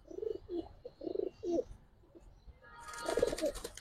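Giribaz and Afsan bagha silver pigeons coo softly nearby in short, low, throaty bursts, a few calls in a row, then a louder coo over faint rustling.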